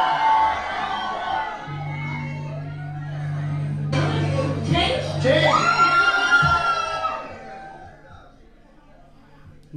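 An audience at a live concert screams and cheers loudly, a swelling wash of yells and whoops over steady low music, peaking midway before fading; someone talks over it.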